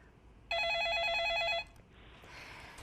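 Electronic telephone ring for a caller to a Korean stock-investment call-in broadcast: one warbling burst of about a second, loud and close, followed by faint room noise.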